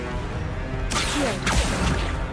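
The Accio spell is cast in the Hogwarts Legacy video game, a quick magical whoosh with a sharp crashing hit, followed by a second swishing burst over a steady, busy game background.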